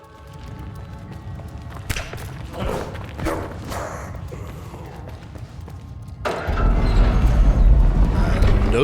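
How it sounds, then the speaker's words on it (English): A booming gate opens in the Misspell video game, a deep heavy rumble that swells abruptly near the end and stays loud, after a stretch of softer thumps and game noises. "Nice booming gate opening sound effects."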